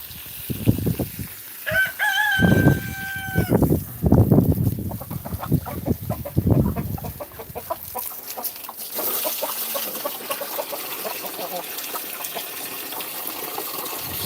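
Chickens cluck and a rooster crows amid a flock, with splashing water and broadband farmyard noise continuing throughout.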